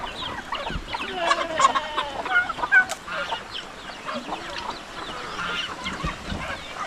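Ducks and other farm fowl kept near a stream call out in a busy flurry of quacks, honks and clucks, close and overlapping in irregular bursts with no one talking.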